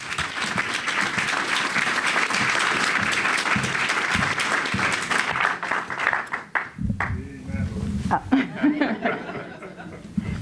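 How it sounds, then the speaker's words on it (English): Audience applause for Natalie Moore, a Chicago Sun-Times columnist, at a panel event, dense clapping for about six seconds before fading into scattered chuckles, murmurs and a few laughs. "can we please give a big round of applause for Natalie Moore?"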